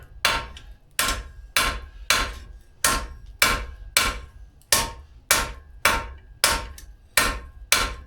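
Steady hammer blows on hot metal while forging a seax blade ring out about once every half second, each a sharp metallic strike with a brief ringing decay, close and loud, with no talking.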